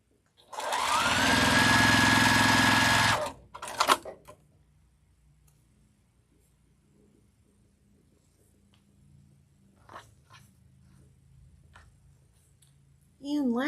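A sewing machine stitches the last seam of a quilt block in one loud, steady burst of about two seconds, then stops, followed by a few clicks, quiet handling and brief talk at the end.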